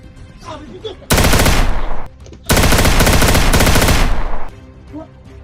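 Two long bursts of rapid automatic gunfire, loud and close, separated by a brief pause, with faint background noise before and after.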